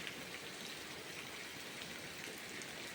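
Heavy monsoon downpour over a flooding farm field, a loud, dense, steady hiss of rain that never lets up, with no voices.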